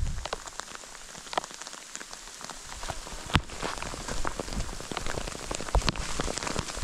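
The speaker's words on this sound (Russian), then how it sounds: "Блин, дождик начинается просто." Heavy rain with large drops begins on a mountain hiking trail near the Maly Fisht glacier, a dense close patter with sharp individual drop hits that thickens over several seconds, with no talk.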